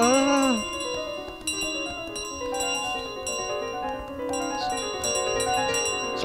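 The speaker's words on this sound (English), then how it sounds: "Stop trying to grab me bell." Bright metallic bell rings and chimes repeat over a light melodic game score in Untitled Goose Game as the goose grabs at a bell in the model village, a cluster of strikes near the start and more scattered through.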